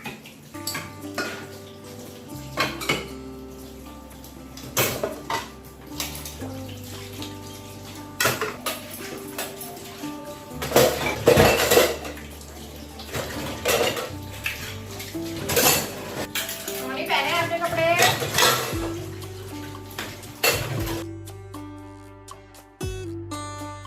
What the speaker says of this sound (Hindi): इसके बाद यहाँ पे बर्तन में सोप भी लगा लिया था। अब बारी आती है इनको वॉश करने की।